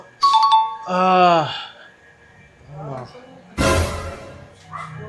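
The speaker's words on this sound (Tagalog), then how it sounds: "Doorbell ka ng doorbell, pumasok ka!" A two-tone electronic doorbell chime sounds near the start, followed by voices talking and a burst of noisy clatter or movement.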